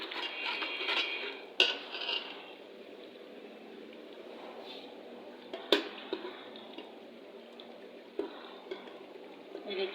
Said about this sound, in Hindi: ये देखिए, अच्छे से इनकी भुनाई हो रही है